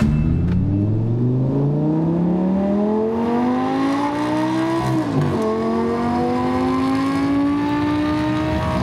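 Naturally aspirated V10 supercar engine pulling hard through the gears, a loud close rising howl that briefly dips at a gear change and then climbs again.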